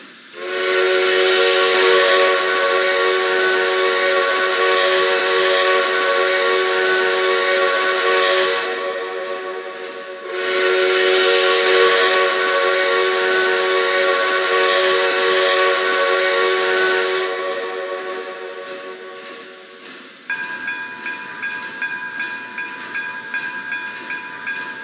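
A train in Trainz Simulator 2019 sounds two long, loud, sustained horn blasts, then a lighter tone over steady rhythmic clacking as it rolls along, with no talking.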